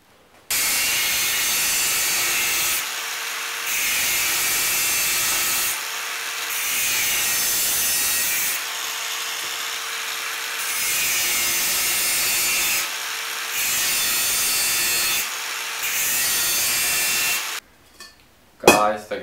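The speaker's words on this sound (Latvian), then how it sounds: "Sāksim zāģēt." Wood being hand-sawn into legs for a new workbench, a run of long rhythmic rasping strokes broken by short pauses, fairly close and loud, ending with some clattering handling noise.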